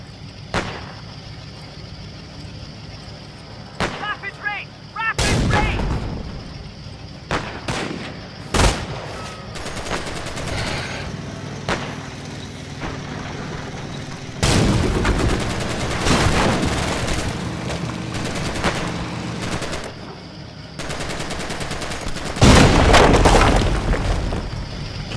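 Gunfire and artillery in a World War II battle from Company of Heroes with the Immersion 1944 mod, with sharp rifle and machine-gun bursts, heavy booms and sustained fusillades stacking up loudly and close throughout.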